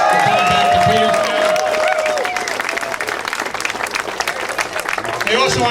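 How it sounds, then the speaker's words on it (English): A crowd at an outdoor street dedication for Joe Long in Peterstown breaks into loud applause and some cheering, with whistles and voices mixed in, the clapping continuing steadily to the end. "Let's give Joe a great round of applause for coming back to Peterstown."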